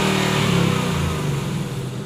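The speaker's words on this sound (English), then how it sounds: "Got nice exhaust, specially tuned just for this car." 2018 Ford Mustang Bullitt with a specially tuned exhaust revving hard, a loud, close, dense engine roar that holds steady and then eases off slightly.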